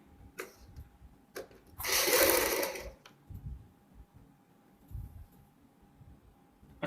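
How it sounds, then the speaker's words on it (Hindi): A sewing machine stitches along buckram pasted on a kurti collar in one clear burst of about a second, with softer mechanical ticks and handling clicks before and after. "और बुकरम के साथ साथ सिलाई लगाएंगे"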